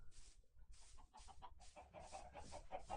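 Soft clucking and murmuring of Minecraft chickens comes in irregular bursts, fairly faint, with no talking.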